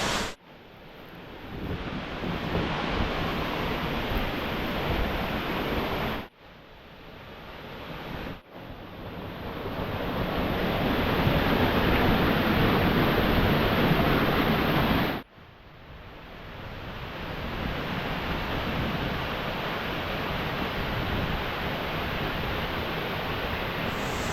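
A steady, loud roar of rushing water from the Manamutti waterfall pouring nearby, broken by a couple of brief cuts, with no voices.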